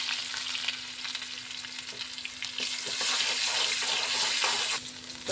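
Onion and garlic fry in hot oil left over from making fritters, a steady close sizzle with stirring clatter that swells slightly toward the end, with no talking.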